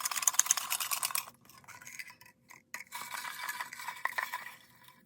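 Folded paper slips are shaken and stirred in a container to draw a book, a close, soft rustling and scraping that comes in uneven bursts with short pauses between.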